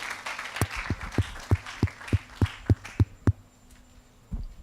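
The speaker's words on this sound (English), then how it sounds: "Let us clap for him." About ten sharp, evenly spaced claps ring out in a steady rhythm at a school human rights week event, fairly close and alone, then stop.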